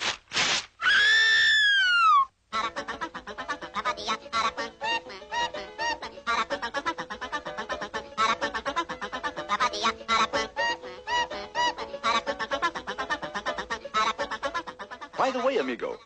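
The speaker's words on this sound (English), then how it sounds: "he's called the Aracuan because of the peculiar song he sings" A cartoon Aracuan bird sings its peculiar song, opening with loud whooping, sliding cries and then breaking into a rapid, chattering run of squawks and warbles that continues for many seconds.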